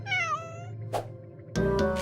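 A cat meows in a video game trailer, one drawn-out mewing call up close over a steady musical backing, followed by a soft thump and a louder burst of music.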